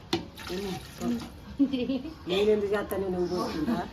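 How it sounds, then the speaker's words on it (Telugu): Water is poured steadily into a pot for cooking rice while people talk over it throughout. "ఇంకా ఇప్పుడైతే వాటర్ పోస్తున్నారు"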